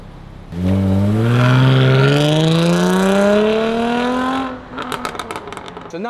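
A supercharged V6 Jaguar F-Type coupe with an X-pipe exhaust revs loud and close, climbing steadily for about four seconds, then drops off into a quick run of crackling pops.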